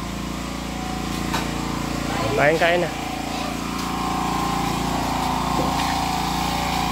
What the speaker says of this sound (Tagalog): Naka-generator na tayo.